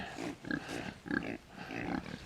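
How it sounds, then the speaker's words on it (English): Pigs on a small farm grunt in a run of short, rhythmic bursts, close and moderately loud, with brief pauses between the grunts. "come on, pigs, come on."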